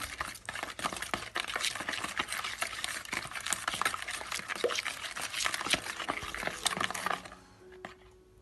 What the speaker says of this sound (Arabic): غنحاول نخلط العناصر جيدا حتى تنسجم مع بعضها